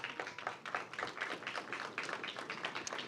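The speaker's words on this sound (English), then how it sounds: "let's give her another round of applause" Faint applause from a modest audience at a workforce summit, a scattered patter of individual claps heard from a distance and fairly quiet throughout.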